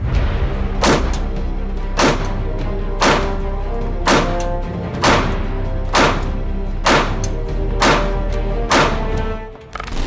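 A SIG P320 pistol being fired at an indoor gun range, about nine sharp, loud shots spaced roughly a second apart, each with a booming echo, heard close and with no talking.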